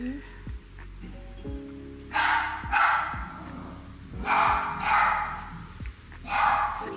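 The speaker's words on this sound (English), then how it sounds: "Excuse my dog." An indoor dog barks in a run of loud, sharp barks spaced in clusters, heard over a background of tonal music or sustained low hum, with no speech.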